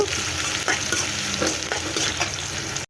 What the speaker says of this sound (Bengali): আমি রসুনের পেঁয়াজটা ভালো করে ভেজে নেব